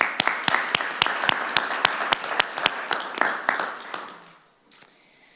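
Audience applause at a scholarship awards night, a burst of sharp claps in a room that starts strong and fades out over about four seconds, ending with a few scattered late claps.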